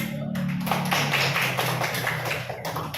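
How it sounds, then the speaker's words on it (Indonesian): Students in an Indonesian classroom applaud a presenting group, a dense burst of clapping that starts after a brief pause and continues steadily to the end. "Kita beri aplaus kepada kelompok 1."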